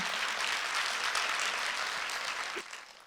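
A church congregation at a worship service applauds in a steady, moderately distant wash of clapping that tapers off near the end.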